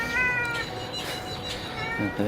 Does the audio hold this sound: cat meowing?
yes